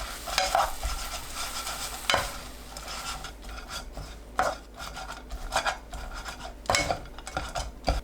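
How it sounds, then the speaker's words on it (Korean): Dried filefish strips are tossed and stirred into a seasoning sauce in a pan off the heat, giving a steady scraping and stirring rasp with occasional louder clacks of the utensil, close up and with no voices. "끓으면 불 끄고 쥐포 넣어 골고루 섞어주세요"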